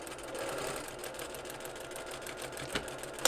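A sewing machine stitches across a folded-under dress hem in a steady, fast mechanical whir, close and moderately loud, with a couple of brief clicks near the end.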